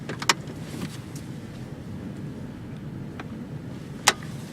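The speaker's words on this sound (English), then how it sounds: "let's go for a friggin' test drive. See if this transmission works." A junkyard Chevrolet Trailblazer drives on a test drive, giving a low, steady engine and road rumble with a couple of brief sharp clicks or rattles.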